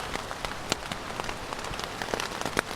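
Rain falls on a tent at Antlers Campground in the 100-Mile Wilderness, a close, steady patter with scattered sharper drop taps and no voices.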